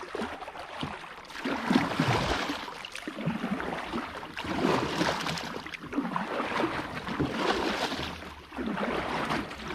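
A kayak paddle dips and pulls through water in a slow repeating rhythm of splashing strokes while the boat moves backwards, with soft water sounds close by and no talk.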